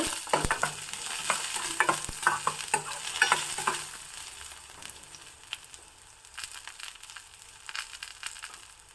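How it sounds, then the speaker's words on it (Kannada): Ginger stir-fried in a hot pan: rhythmic spatula scrapes and taps over a bright sizzle for several seconds, then the stirring eases and a quieter hiss continues with occasional knocks. "ನಂತರ ಶುಂಠಿ ಚೆನ್ನಾಗಿ ಹುರ್ಕೊಬಿಡೋಣ"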